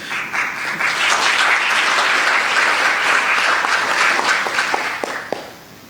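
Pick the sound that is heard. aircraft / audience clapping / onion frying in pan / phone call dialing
audience clapping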